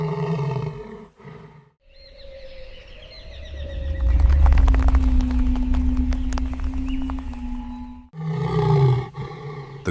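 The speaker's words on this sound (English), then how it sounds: "The king roars a terrifying, deep warning." A male lion on the savannah lets out a deep warning roar, a loud low rumbling bellow that lasts several seconds and is framed by other wild animal calls before and after.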